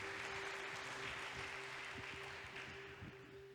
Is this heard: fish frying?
no